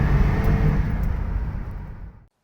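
A Holden VZ Commodore pulls hard up a steep hill, its engine roaring loud and close under heavy throttle for about two seconds before cutting off abruptly.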